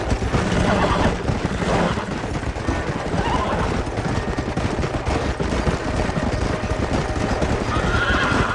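Horses whinny and hooves clatter in the Red Dead Redemption video game, steady and fairly loud throughout, with bursts of gunfire mixed into a busy game soundscape.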